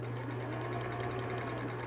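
A sewing machine runs steadily, stitching a 3/8 inch seam on a fabric cap, a constant close hum with a rapid, even needle rattle and no pauses.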